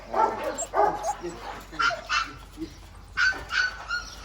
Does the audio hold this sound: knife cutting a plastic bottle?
no